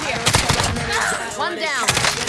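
Repeated gunfire bursts from the Warzone battle royale game, sharp broadband shots clustered near the start and again at the end, mixed with in-game effects and a voice talking over the action.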